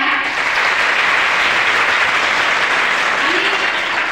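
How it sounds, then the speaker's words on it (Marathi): An audience at a school competition applauds the contestants, loud continuous clapping from many hands that fills the whole stretch, with a faint voice under it near the end. "तर एका या सर्व स्पर्धकांसाठी जोरदार टाळ्या।"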